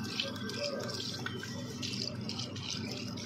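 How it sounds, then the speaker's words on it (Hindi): Rice being washed by hand in a pot while water is poured in during biryani preparation, giving steady close splashing and trickling with small swishes throughout. "चलो पानी डालो उसमें, अब बेहतरीन से जो चावल जो है उसे धो दो।"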